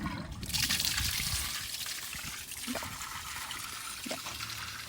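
Water trickles and splashes steadily from a motorhome tap during water servicing, a close, continuous hissing flow with a few small gurgles and knocks, no talk over it.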